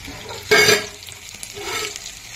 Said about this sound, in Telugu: పచ్చిమిరపకాయలు వేగిపోయాయి కదా